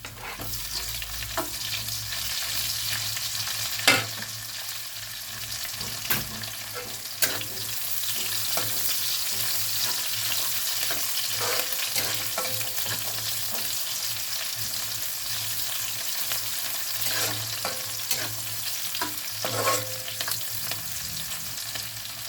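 Onions sautéing in a pan for chicken adobo with pineapple, a steady close sizzle and fry running throughout, with occasional sharp clicks and scrapes of stirring.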